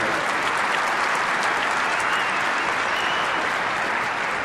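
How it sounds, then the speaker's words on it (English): Loud, dense applause from a tennis crowd at Indian Wells after the 2002 final between Hewitt and Henman, a steady roar of clapping that holds evenly throughout without a break. "Again, another big round of applause for both players."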